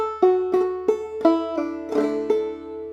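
A clawhammer banjo plays the closing measure of the tune Briarpicker Brown: about eight bright plucked notes in a lilting rhythm, close and clear, ringing out alone without any voice.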